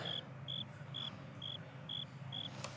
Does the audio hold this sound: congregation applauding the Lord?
no